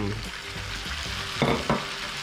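Spring roll filling of cabbage, carrot and fresh glass noodles stir-fries with soy and oyster sauce in a pan, a continuous sizzle broken by two louder bursts as the mix is tossed and scraped.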